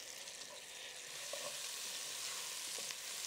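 Garlic goes into a pan of onions frying for venison chili con carne, producing a constant soft sizzle with a few faint stirring clicks, quiet and alone.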